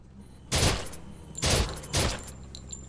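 Three loud bursts of automatic gunfire from a weapon in the VR zombie shooter Surv1v3, spaced about a second apart, each a short rattling volley standing alone with no talk.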